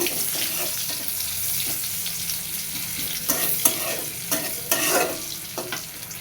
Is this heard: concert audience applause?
no